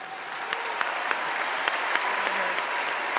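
Delegates at the Democratic National Convention applaud in a large hall, a sustained roar of clapping dotted with distinct sharp claps standing out over the crowd.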